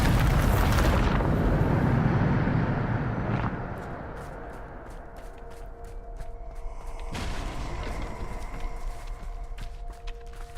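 A loud burst from the Bombarda explosion spell in Hogwarts Legacy erupts at the start and rumbles for a few seconds, then fades into quieter ambience with scattered footsteps and a second, smaller impact.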